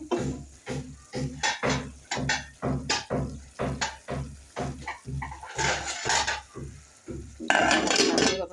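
Rohu fish head sautéing with spices in a pan, heard as a steady close sizzle broken by a regular run of loud scraping stirs, with bursts of stronger frying near the end.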